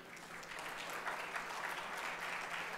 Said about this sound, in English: sometimes it's important to clap also